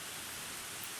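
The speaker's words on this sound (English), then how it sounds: "I actually think it might be the rain that's doing this." Steady broadband hiss of rain drumming on a surface, filling the whole moment evenly with no gaps or voices.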